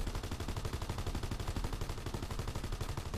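Sustained rapid machine-gun fire in a WW2 video game, a fast, even rhythm of shots continuing loudly without pause from start to finish.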